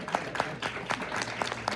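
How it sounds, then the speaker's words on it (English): Audience applauding a panelist at a panel event on women in tech, a steady patter of scattered clapping across the whole stretch, moderately distant and without talk. "Please give Claire a round of applause."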